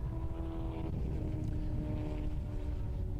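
A racing car at full throttle on a circuit during a motor racing championship, its engine a loud, steady roar that fills the whole short stretch with no talk over it.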